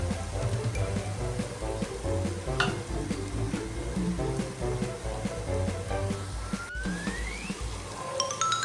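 Biryani masala sautéing in a pan for chicken biryani, a steady close sizzle with stirring scrapes throughout, layered under constant music with tonal notes and a rising whistle-like sweep near the end.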